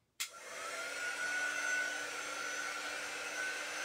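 Hair dryer switched on with a sharp click, then a steady whooshing motor blow with a thin whine, drying paint on a gnome craft, running continuously at moderate level.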